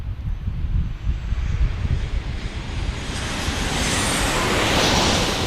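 A United Airlines airliner arriving from Denver, a broad roaring jet rush that holds steady and swells slightly, heard from nearby outdoors amid wind noise.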